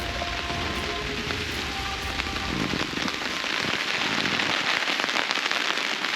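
Heavy rain pounding steadily on a tent, a dense, continuous hiss of drops drumming the fabric close by, loud and unbroken with no voices.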